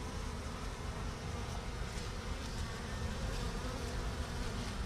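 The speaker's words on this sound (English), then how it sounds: "So now I'm trying to get all these bees, get as many bees as I can to go in there." Honey bees swarm close around a bare-handed hive rescue, their dense, continuous buzzing drone holding steady and fairly loud throughout.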